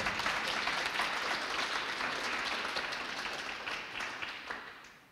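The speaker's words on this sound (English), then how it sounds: "Please give them a round of applause and a warm welcome." An audience claps steadily throughout, loud at first and then slowly tapering off.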